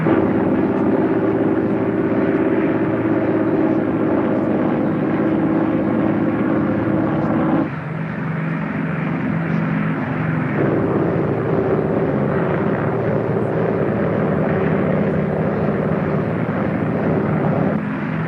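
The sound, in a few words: propeller airplane engines during takeoff and climb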